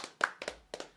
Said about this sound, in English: Let's clap it up one time for him.